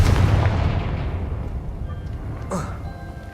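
A Confringo blasting spell cast in Hogwarts Legacy sets off a loud, heavy boom with a deep rumbling decay, followed by a smaller crackling burst, all dense and close.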